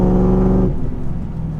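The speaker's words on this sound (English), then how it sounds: "That's what a car should sound like." A Chevrolet Camaro SS SLP ZL600 with 650 horsepower, its V8 engine holding a loud, deep rumbling rev that drops away after a moment into a lower, rougher idle burble.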